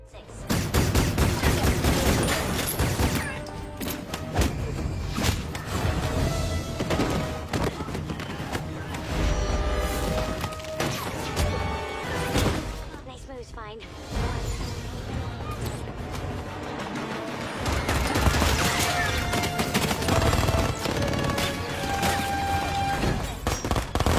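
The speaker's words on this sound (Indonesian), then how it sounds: "Anak buah Boyanov yang mendengar suara tembakan pun segera bergegas menuju ruang bawah tanah untuk mengejar Fine." Repeated gunshots and automatic bursts ring out over a dense, loud soundtrack from the film Spy, with brief lulls between volleys.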